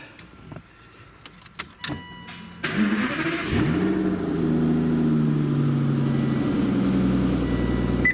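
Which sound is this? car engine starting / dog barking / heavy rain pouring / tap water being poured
car engine starting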